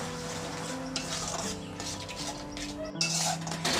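A ground paste of cashew, melon seeds and poppy seeds being stir-fried in a wok for a cauliflower curry, soft sizzling under scraping spatula strokes and light metal clinks, close and continuous.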